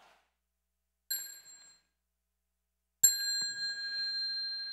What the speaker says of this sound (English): And we hear the one sound of the bell.